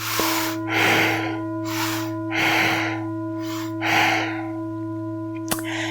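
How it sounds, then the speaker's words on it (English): Slow, deep breaths during a yoga session come through as four audible breath cycles at a steady pace over a constant low hum, each one a soft airy rush. No one speaks. "Nice big breaths."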